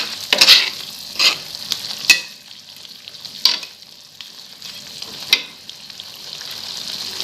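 Cut tempeh for sambal krecek sizzles and crackles in a hot pan while it is stir-fried, with a steady frying hiss and occasional sharp spatula scrapes.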